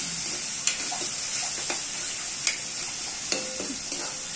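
Onions frying in oil until reddish-brown hiss with a continuous sizzle, broken by occasional light scrapes and taps of a spatula against the pan, close and even, with no voices.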